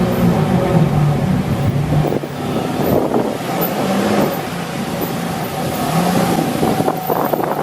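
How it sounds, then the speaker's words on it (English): A hypercar pulls out of a car park, its engine a loud, steady, close rumble with tonal bands that shift slightly over about eight seconds, mixed with wind buffeting and outdoor noise. "This is the next car to come out of the car park."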